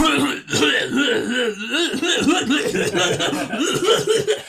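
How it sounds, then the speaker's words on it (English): Someone coughs and splutters repeatedly, with throaty hacking mixed with breathy, chuckle-like sounds. "It is a comical amount of coughing."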